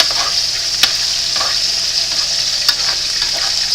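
Catfish and potatoes frying in a pan are stirred, giving a steady bright sizzle throughout with a couple of sharp utensil clacks against the pan. No one talks.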